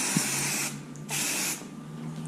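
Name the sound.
hairspray being sprayed onto hair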